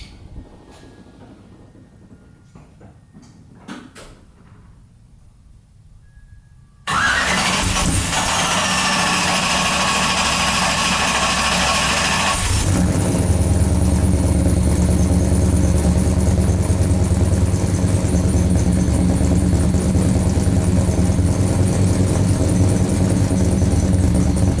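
A gray truck engine cranks over and catches after a quiet stretch, then settles into a loud, steady idle up close that grows slightly rougher partway through, with no one talking.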